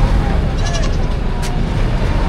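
Goats bleat at a livestock market selling cattle, goats and carabao in Padre Garcia, Batangas. A few short bleats rise over loud, constant crowd noise and background chatter.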